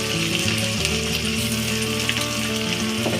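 Spice masala of ginger and garlic with salt and turmeric powder sizzles steadily in hot oil in a pan for a soybean curry, a continuous close frying hiss with no talk.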